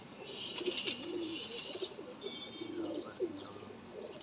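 Pigeons in a breeder's loft coo steadily in low rolling phrases, joined by faint higher chirps, close and continuous with no talking.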